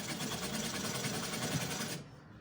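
A sewing machine runs fast and steady while stitching around a kurta band, a continuous close, even whirring drone that stops abruptly near the end.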